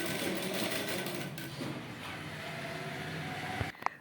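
A sewing machine stitching folded trouser fabric for a wrap trouser runs in a steady continuous whir up close, followed by a few brief clicks near the end, with no talk.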